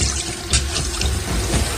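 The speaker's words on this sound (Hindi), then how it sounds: "मुंह धोने को उसने नल खोला और पानी बार बार अपने चेहरे पर मारने लगा" A bathroom tap runs while water is splashed again and again onto a face, a steady close rush of water with small splashy surges, used in a Hindi horror audio story.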